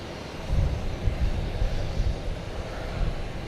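An airliner at Boston Logan Airport, a low steady engine rumble with gentle swells, fairly close and running alone for a few seconds.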